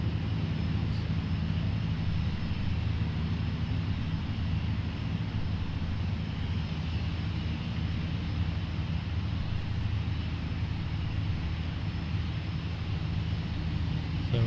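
A plane's engine drones steadily and evenly at a distance as it prepares for takeoff at the Seafair air show.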